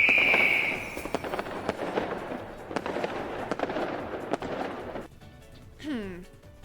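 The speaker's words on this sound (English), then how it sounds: "No, those are fireworks." Fireworks explode in a Fourth of July celebration in Crusader Kings III, a dense run of crackling pops and bangs that gradually thins out and ends with a rising whistling streak.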